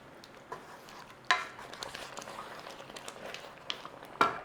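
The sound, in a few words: stirring beef stock into cottage pie filling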